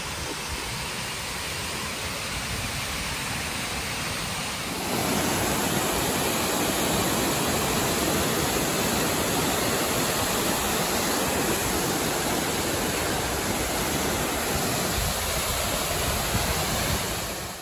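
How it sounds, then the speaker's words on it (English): A waterfall roars in South Island New Zealand bush, a loud, dense, continuous wash of falling water that swells louder partway through as it comes nearer, with no talk. "There's a waterfall here."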